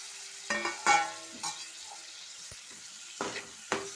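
A finely chopped tomato goes into a hot pan for a paneer tomato curry. Several sharp clatters and stirring scrapes stand out over a faint, low sizzle, with quiet gaps between them and no talking.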